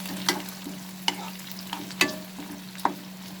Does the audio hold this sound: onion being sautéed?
yes